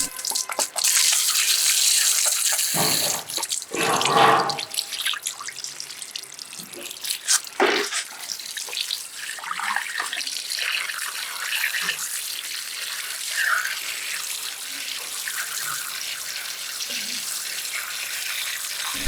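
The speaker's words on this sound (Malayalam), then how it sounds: "ഇനി നമുക്ക് വെള്ളം ശക്തിയിലടിച്ച് അപ്പോൾ ഗ്യാപ്പിനകത്തുള്ള മണ്ണെല്ലാം നമുക്ക് വെളിച്ചടിക്കാം." Strong water jet flushing packed soil out of the gap in a water pump during a DIY repair, a harsh spraying hiss with bursts and splashes that surge and ease, no talk over it.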